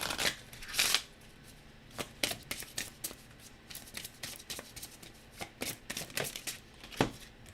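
Oracle cards are shuffled close by with quiet, irregular riffling and slapping bursts, sparse at first and then coming in quicker clusters.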